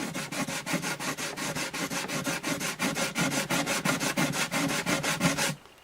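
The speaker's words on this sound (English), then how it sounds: "I may not have to go to a finer sandpaper." Sandpaper rubs back and forth on the wooden bridge of an Alvarez AD65 acoustic guitar in a quick, even rhythm of about twenty close strokes. The scratchy rasping stands alone and stops sharply at the end.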